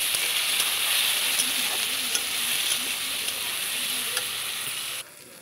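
Potato pieces frying in a pan with salt and turmeric give a loud, steady sizzle with small crackles, which cuts off abruptly near the end.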